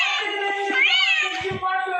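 A cat gives a long, drawn-out, wavering meow up close, loud and plaintive, with the pitch rising and falling.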